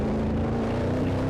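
Sustained engine drone of a muscle car in a NASCAR racing game, a steady loud hum with a constant low pitch throughout, no pauses.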